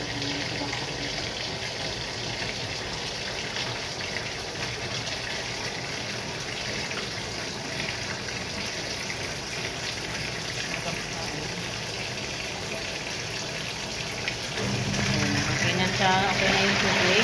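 Water runs steadily from a tap in a loud, continuous gush that lasts throughout, becoming heavier and more splashy near the end.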